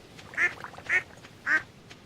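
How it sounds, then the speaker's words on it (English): Three evenly spaced quacks from a duck in the Stardew Valley video game, clear and moderately loud over a quiet game background. "And there's a duck"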